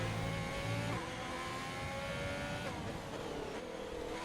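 Formula 1 car in a racing video game at Monza, driving through the Lesmo corner, with a steady high engine whine that drops in pitch around one second and shifts again as it lifts and reaccelerates, close and alone.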